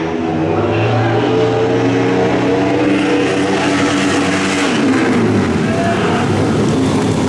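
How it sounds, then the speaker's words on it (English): A BMW twin motorcycle races around the Frederick fairground dirt track, its engine roaring loud and continuous with pitch shifts as it revs through the turn, crowd and track noise blended in. "And that is a BMW twin out there."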